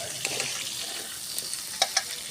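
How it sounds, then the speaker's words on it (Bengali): Chopped onions sizzle steadily in a hot pan while a spoon stirs them, with a few soft scraping knocks against the pan over the constant frying hiss. "তারপরে ভালো করে নেড়ে নেব,"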